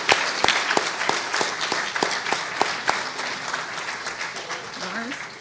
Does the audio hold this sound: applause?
yes